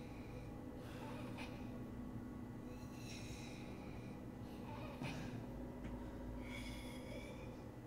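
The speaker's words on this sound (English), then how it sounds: "What's that breathing?" Heavy breathing and gasping in the horror video game Resident Evil 7, recurring in bursts over a constant low rumbling drone, fairly loud, with no talk.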